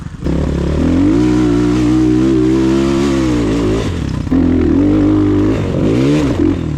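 A Rottor Bronx 300 Chinese enduro motorcycle is ridden with its engine loud and close, holding a steady drone before dipping and rising through revs, with wind noise throughout.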